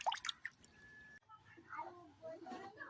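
Water drips from gourd leaves lifted out of salt water, a few quick, faint droplets near the start followed by softer wet trickles in a quiet kitchen setting.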